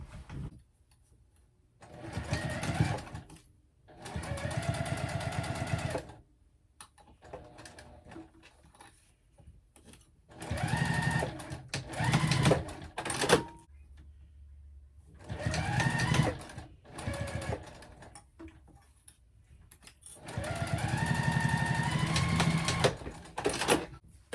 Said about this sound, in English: we're just going to go ahead and sew down and around, leave an opening here that we can turn this, and then down and around again